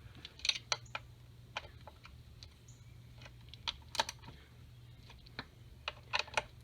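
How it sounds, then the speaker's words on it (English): A 1/4-inch ratchet tightens throttle body bolts on a 2005–2014 Mustang, giving scattered sharp, close clicks in short irregular bursts over a low steady hum. "1/4-inch ratchet to tighten mine"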